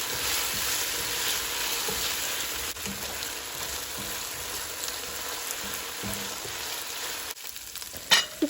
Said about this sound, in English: So we're not adding any water, we're just frying this.